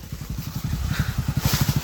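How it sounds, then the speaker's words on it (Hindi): A motorbike follows close behind along a narrow village path through greenery in Bihar. Its engine thumps out a fast, loud, regular beat that comes through clearly, with no speech over it. "मेरे पीछे पीछे बाइक ला रहा है।"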